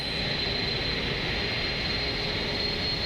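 Airbus A310 jet engines on throttle-up in Microsoft Flight Simulator, a loud, steady broadband roar with a thin high whine running through it, alone and unbroken.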